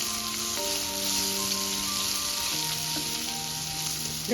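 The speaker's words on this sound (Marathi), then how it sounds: "आणि ती व्यवस्थित आपण तेलामध्ये परतून घ्यायचे" Curry leaves and coriander-cumin powder frying in oil for a quick raw mango pickle give a steady close sizzle, with sustained tonal music under it and no speech.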